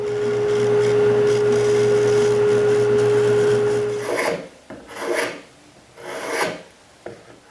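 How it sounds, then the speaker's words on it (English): An oscillating spindle sander runs with a steady electric hum for about four seconds, then rasps in rhythmic bursts as a dovetailed wooden keepsake box is pressed against it to smooth away bandsaw marks on its curves. "I moved over to the oscillating spindle sander and cleaned up any marks left by the bandsaw."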